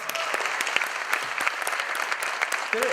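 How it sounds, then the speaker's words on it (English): A crowd of realtors at a national real estate awards and anniversary event in Mumbai applauds, a loud, dense, continuous patter of many hands close by, with a voice briefly audible at the end. "Can we have a good applause to each one of us?"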